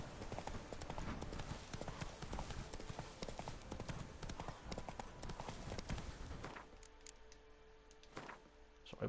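Roach, the horse in The Witcher 3, trots with a rapid continuous clip-clop of hooves, fairly close and even, before the hoofbeats thin out near the end.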